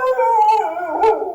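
A dog howls loudly and close by, one sustained wavering tone that dips and rises again over about a second and a half, with no other sounds.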